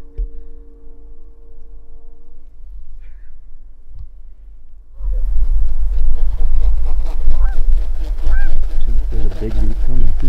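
Geese honk during a snowy field goose hunt, first a few distant calls over low rumbling, then a large flock passing close with loud, overlapping honking and wingbeat noise, while someone talks under it.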